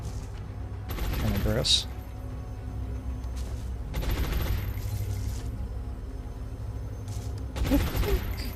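Weapon fire from a mech unit in XCOM: Long War, heard as three loud bursts of gunfire spaced a few seconds apart over a steady game background, with a person speaking briefly.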